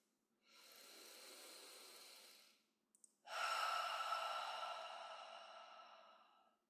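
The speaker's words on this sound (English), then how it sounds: "You're going to breathe. Long exhales." Two long, slow exhaled breaths during a lymph drainage exercise, each a soft, close, airy rush lasting a couple of seconds, the second stronger and tapering off gradually, with no talking.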